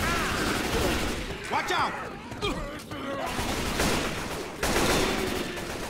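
Gunfire bursts in the zombie co-op shooter Left 4 Dead, dense overlapping shots and chaotic fight noise running throughout, with players shouting over the action.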